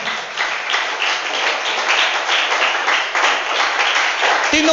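A church congregation applauds at a worship service, a steady, full wash of clapping from many hands that holds for several seconds before a brief thump at the end.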